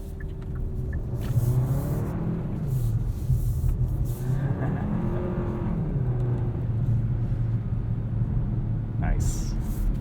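A 2022 Kia K5 GT-Line AWD sedan driven in sport mode, heard from inside the cabin: an engine hum and rumble that rises and falls as it revs and changes gear, steady and close, with road roar underneath.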